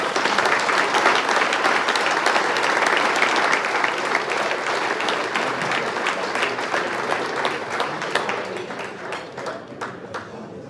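A large audience applauds after a keynote speech: sustained, dense clapping from a big crowd that stays strong for several seconds, then gradually thins and fades toward the end.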